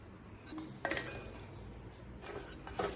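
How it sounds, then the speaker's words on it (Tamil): Jaggery tipped into a cooking pan for Tamil nei appam, giving a few light clinks and scrapes of a cup or spoon against metal, close but soft, scattered across a few seconds with short gaps. "இப்போ அடுத்தது 1 கப் வெல்லத்தை இதில் சேர்த்துக்கலாம்."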